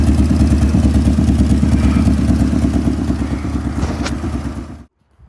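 A vehicle engine with a manifold leak idles rough and loud up close, a steady chuffing clatter that cuts off abruptly near the end.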